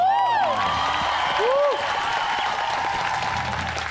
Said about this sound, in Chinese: 我们掌声给他们三位。